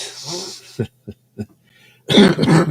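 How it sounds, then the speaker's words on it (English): Three short, sharp coughs in quick succession, close by, framed by stretches of talking before and after. "every time I laugh, I cough"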